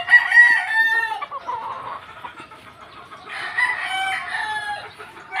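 Gamefowl broodstag rooster crowing close by, two loud crows separated by a short pause, with no talk.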